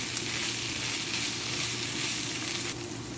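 Food fries in a hot pan to turn crisp and red on each side, a loud, steady, dense sizzle that holds evenly throughout with no talking.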